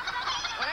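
A group of children imitate a hen's clucking together, a dense, lively chorus of voices sustained through a brief moment.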